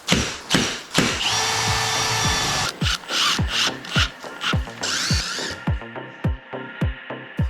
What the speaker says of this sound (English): I went ahead and drilled holes for the adjustable shelves